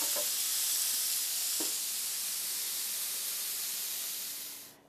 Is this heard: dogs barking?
no